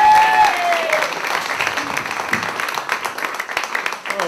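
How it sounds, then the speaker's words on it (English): Audience applause and cheering for a student stand-up comedian at the Camino Real Playhouse, a full round of clapping already underway that stays lively throughout, slightly dipping near the end. "Okay, big round of applause."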